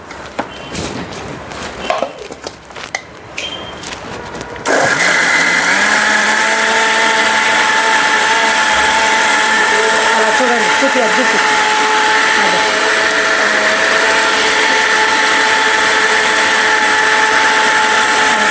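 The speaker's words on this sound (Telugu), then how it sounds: "ఇలా మిక్సీ పట్టుకోవటం అంతా." After a few seconds of quieter clatter, a mixer grinder blending mango starts up and blends with a loud, steady high whine that continues to the end.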